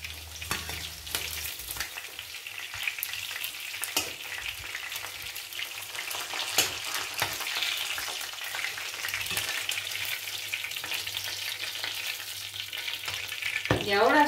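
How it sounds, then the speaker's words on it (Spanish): Rabbit meat sizzles and crackles steadily in hot oil in a pot, a constant close frying hiss with occasional stirring clinks. "Y ahora seguiremos friendo."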